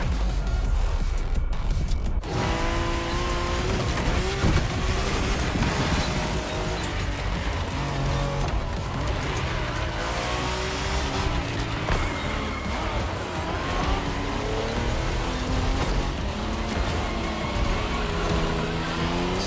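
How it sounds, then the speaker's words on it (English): A Ferrari races and slides in The Crew Motorfest, its engine droning loud and steady with shifting tones and tire noise throughout, after a brief sharp burst at the start. "Slide that Ferrari."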